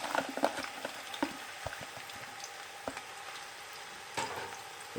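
Two large onions frying in hot oil in a pot for beef nihari, a steady soft sizzle with small crackles and pops, close and quiet, with no one talking.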